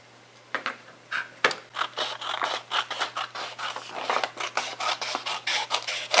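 Scissors snip thin paper strips for purse straps, a quick series of close, crisp cuts in an uneven rhythm, with no talking.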